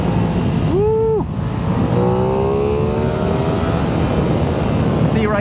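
A 2021 Aprilia Tuono 660 motorcycle engine drones loud and close during a ride, rising in pitch as it revs, with constant wind rush and a brief sweep as it shifts.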